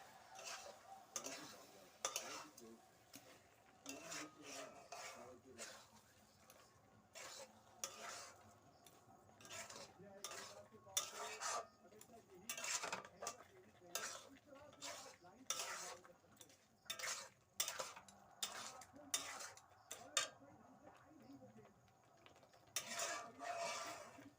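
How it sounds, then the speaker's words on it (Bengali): Carrot halwa with sugar and milk is stirred in a pan, soft rhythmic scraping strokes of a spoon repeating throughout over a faint background sizzle. "এবারে আমি নাড়াচাড়া করবো"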